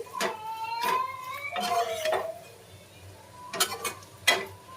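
Eggplant fry being stirred in a pan, a series of scraping spoon strokes and clinks against the metal over a soft sizzle, close and irregular with no clear talk.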